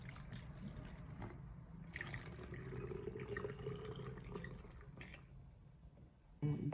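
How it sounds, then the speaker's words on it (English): Herbal tea pours through a funnel into a bottle, making a soft, quiet trickle and gurgle with brief dribbles and small knocks, ending in a louder splash. "when pouring your tea into your bottle is using a funnel"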